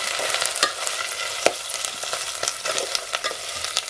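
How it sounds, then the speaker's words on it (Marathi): Goda masala with ground onion-coconut paste fries in a hot pan, giving a steady crackling sizzle broken by sharp scraping strokes of a stirring spoon, close and continuous with no voices. "गोडा मसाला मस्त परतलाय."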